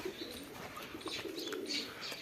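Pigeons at a home pigeon setup give soft, low cooing calls with a few brief chirps, steady and fairly close against a faint background hum.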